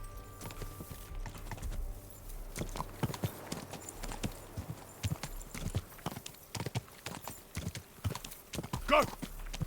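Hooves clip-clop rapidly as a horse gallops in a Western video game, with steady rhythmic thuds close by, a brief whinny near the end, and a player talking over it.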